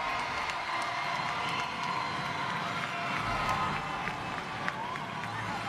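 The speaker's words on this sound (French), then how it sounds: "Mesdames, Messieurs, applaudissements pour Miss Martinique 2025." Crowd applause and cheering for Miss Martinique 2025, a continuous roar of clapping mixed with voices and shouts, steady and fairly loud throughout.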